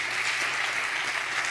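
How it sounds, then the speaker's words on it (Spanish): Steady, dense applause from a congregation during an evening evangelical church service, continuous and fairly loud throughout with no talk over it. "Denle un aplauso fuerte al Señor"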